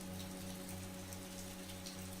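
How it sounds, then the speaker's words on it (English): Steady rain patters against a window pane on a rainy night at a hotel, a continuous soft hiss of drops over a low constant hum, with no pauses or voices. "the rain tapping against the window pane"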